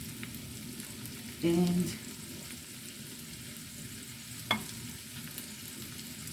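Sliced capsicum and tomatoes fry in a pan with a steady, low sizzle, with a brief louder burst of stirring near the start and a single sharp clink later on.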